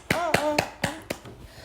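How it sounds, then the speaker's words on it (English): A few short, sharp hand claps in an uneven rhythm at home during a toddler's nursery-rhyme play session, close and fairly soft, with some voiced sounds between them. "Clap your hands."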